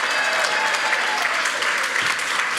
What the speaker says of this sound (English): why don't you keep that round of applause going for Jack Ginnivan and Still Sidebottom